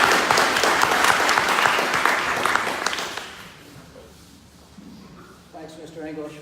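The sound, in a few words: audience applause welcoming speakers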